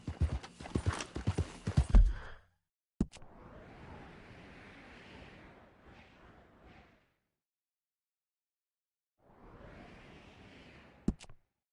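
Horses gallop in the Red Dead Redemption video game: a quick burst of hooves and sharp impacts opens, then stretches of rumbling, breathy hoofbeats with silent gaps between them and a couple of sharp cracks.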